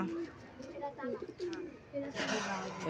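Pet pigeons coo in soft, repeated low phrases at close range, mixed with scattered wing and movement noises, while people talk nearby.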